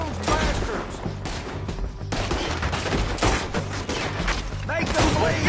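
Rapid gunfire crackles through a Red Dead Redemption town shootout, dense overlapping shots from many guns with shouting voices mixed in throughout.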